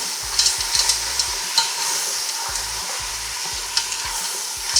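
Red beans and a bay leaf stirred in a pot, making a steady wet sizzle with repeated soft scraping strokes and occasional clinks, close and fairly loud.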